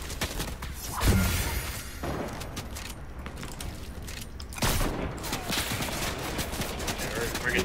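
Gunfire aimed at a squad in a Fortnite match, with a sharp burst near the start and another loud burst midway over a dense, busy background of game noise.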